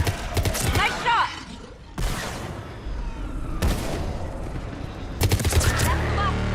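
Weapons fire in the Mass Effect 3 battle on Thessia: loud bursts of rapid gunfire break out four times, each cutting off suddenly, with a low rumble underneath.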